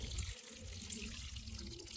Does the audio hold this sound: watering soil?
yes